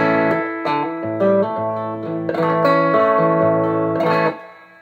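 A mid-1980s Japanese Squier Stratocaster with an E serial number plays through the clean channel of a Music Man 112 RD Fifty amp with reverb: close, loud chords and notes ring out in a steady rhythm before decaying.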